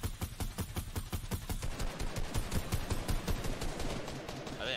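Rapid automatic gunfire from a Fortnite match, dense repeated shots for the whole stretch, loud and close, with a brief voice near the end.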